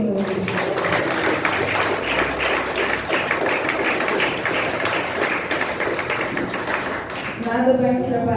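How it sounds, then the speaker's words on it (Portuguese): A church congregation at a Portuguese-language celebration service clapping in praise to the Lord, dense steady applause at moderate loudness with voices mixed in beneath it. "Eu aplaudo o Senhor"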